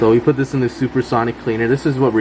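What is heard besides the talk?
None of the usual background noises is heard.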